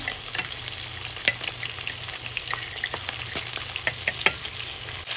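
Fish heads fry in hot oil in a pan. A dense, even crackling sizzle continues throughout, with close, sharp pops and occasional stirring clinks and no voices.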